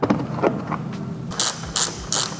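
A ratchet with a 13 millimeter socket works loose the windshield wiper nuts on a Porsche 996, a few quick clicking bursts followed by three louder, sharp ratcheting runs, close up with no talk.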